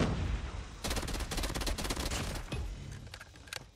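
Burst-fire gun shooting in the Call of Duty Mobile video game, heard as rapid, loud clusters of gunshots repeating over a few seconds with game effects behind them.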